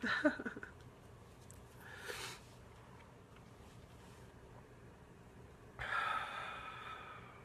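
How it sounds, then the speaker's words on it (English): A quiet room with breathy, nasal blowing bursts, a short one at the start, another midway, and a longer, forceful blow near the end. "Blowing my nose on camera."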